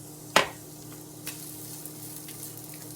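Red onion frying with pancetta in bacon fat, a soft steady sizzle in the pan with a sharp utensil scrape or clink near the start and a few faint stirring taps.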